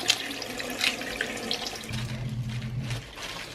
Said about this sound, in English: I've got my kale all washed off.